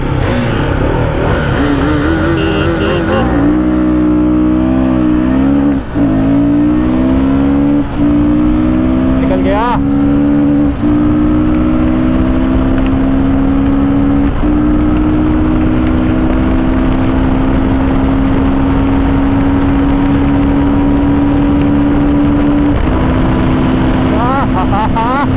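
A KTM Duke 390 BS6 and a 2024 Royal Enfield Guerrilla 450 drag race, with loud engines revving and rising steadily through the gears, close and continuous, over a busy roar of wind and road noise.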